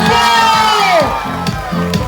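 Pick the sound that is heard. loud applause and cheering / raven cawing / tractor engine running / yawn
loud applause and cheering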